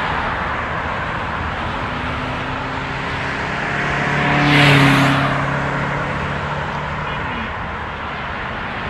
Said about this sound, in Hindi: रोड पे रश बहुत ज़्यादा है